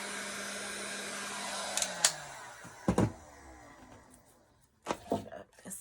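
A hair dryer blows on freshly painted edges of an upcycled Dollar Tree sign, whirring steadily up close for about two seconds before switching off, followed by scattered knocks and thumps of handling.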